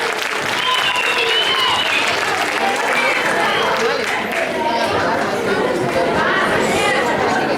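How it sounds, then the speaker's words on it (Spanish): Primary school students and audience at a school debate event give steady, loud applause for a team of girls, a continuous wash of clapping mixed with chatter throughout. "Un fuerte aplauso para ellas."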